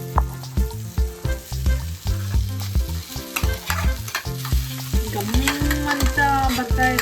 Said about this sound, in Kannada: ಸೊ ನಾನು ಇವಾಗ ರೈಸ್ನ ಹಾಕ್ಕೊಳ್ತಾ ಇದ್ದೀನಿ